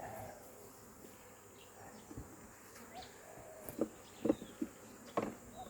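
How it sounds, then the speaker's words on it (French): Honeybees clustering outdoors while a new hive is placed, a thin steady buzz in the background with louder bees droning past the listener now and then, plus faint rustling. "On voit tout de suite les abeilles qui se regroupent au même endroit."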